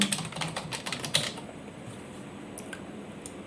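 A computer keyboard is typed on with a quick burst of close key clicks that stops after about a second, leaving faint room hiss and a few isolated taps.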